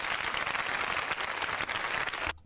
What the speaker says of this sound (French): Ils les applaudissent.